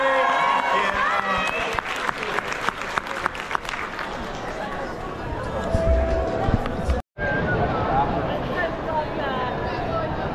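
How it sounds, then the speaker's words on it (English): Applause from a comic con crowd after a Demon Slayer Q&A panel in Tampa Bay, loud dense clapping with babble and scattered cheers, cut briefly by a short dropout before the crowd noise resumes under talk. "One more time, a huge round of applause."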